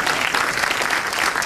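Audience applause fills a hall after film crew credits are read, a dense, steady burst of clapping from many hands, close and loud, with no voices over it.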